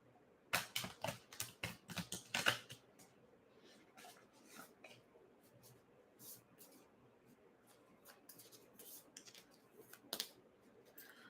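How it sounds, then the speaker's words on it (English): A deck of tarot-style cards is shuffled by hand, giving quick bursts of papery riffling and flicking, fairly faint and close, clustered at the start with sparse taps and rustles after. "So I'm just shuffling these cards."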